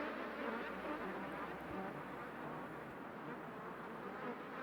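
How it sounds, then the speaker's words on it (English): Bees and other insects buzz in a dense, steady swarm, treated with a delay effect that widens and smears the drone into a dark ambient texture, constant and unbroken throughout. "I'm happy with these bees, with these insects."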